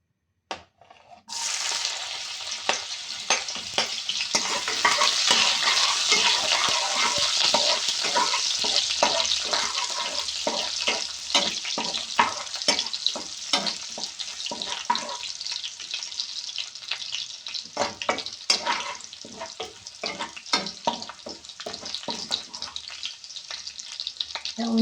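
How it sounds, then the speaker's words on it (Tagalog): Garlic sautéing in a pan gives a strong, continuous sizzle with repeated stirring scrapes and clicks, close and loud, with no talking, after a brief quiet start. "I will saute all of this. This one is a garlic."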